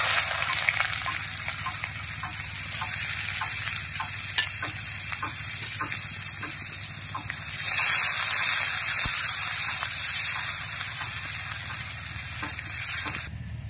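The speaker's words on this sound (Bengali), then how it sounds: "কড়ার মধ্যে আর একটু তেল দিয়ে দিয়েছি। এবার দুটো মাঝারি সাইজের পেঁয়াজ কুচি দিয়ে দেবো" Chopped onions, two medium ones, frying in hot oil in a wok for a home-style egg and potato curry, with a steady close sizzle, stirring scrapes and a brief louder surge midway, no talking.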